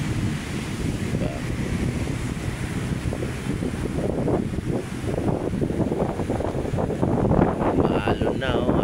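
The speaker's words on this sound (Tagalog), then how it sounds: "Lakas na alon." Strong waves surge and crash along the Manila Bay shore while wind roars across the microphone, a loud continuous wash building toward the end.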